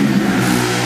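A TVS Apache RR310 motorcycle with a 312cc engine revving close by, a loud, steady mid-pitched engine drone held for under a second with no speech.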